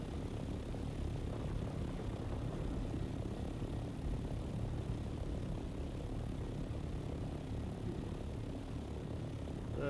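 An aircraft flies in the video game Dune: Awakening, giving a steady, unbroken engine roar with dense rumble throughout and no speech.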